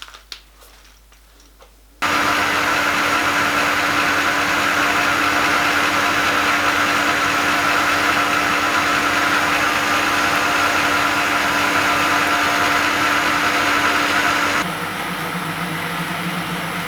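Metal lathe taking a finishing cut while screw cutting a large stub ACME thread in a home machine shop, a loud steady motor whine and cutting hum starting abruptly after a quiet moment and holding evenly, then easing lower near the end.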